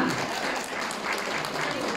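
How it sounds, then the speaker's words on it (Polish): An audience at a Polish charity concert breaks into loud, dense applause right after an auction closes, a continuous wash of clapping with no pause. "Brawa! Brawa!"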